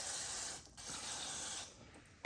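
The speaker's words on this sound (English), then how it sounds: "spray it out," Electrical cleaner sprays into a wiring harness connector on a 2019 Kawasaki ATV with a close, steady hiss, broken by a brief pause partway through before a second burst.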